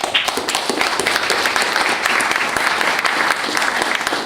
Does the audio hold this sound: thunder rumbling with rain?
no